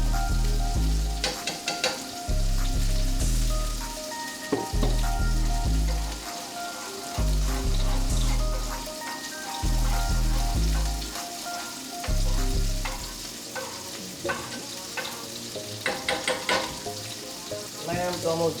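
Garlic and lamb sizzling in a hot pan, a loud continuous sizzle with crackles and stirring, while a rhythmic bass-heavy music beat pulses in the background.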